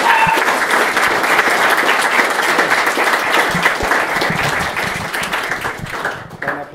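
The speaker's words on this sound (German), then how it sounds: "Applaus, das war ein toller Vortrag." An audience applauds after a talk on travelling by electric car: dense, sustained clapping from a room full of listeners, steady and close, tapering slightly at the very end.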